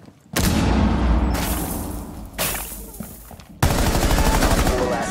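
Loud, close machine gun bursts in a Fortnite-style shooter video game, sustained rapid fire in several long strings separated by brief gaps, with heavy booming impacts.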